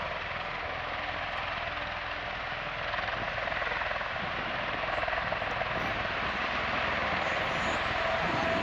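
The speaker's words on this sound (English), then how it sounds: "It's better known as a tilt rotor military transport and also used for cargo." Steady, loud drone of a V-22 Osprey tiltrotor military transport hovering nearby at an airshow, a constant thrumming roar with no talk over it.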